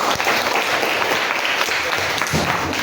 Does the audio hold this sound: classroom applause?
yes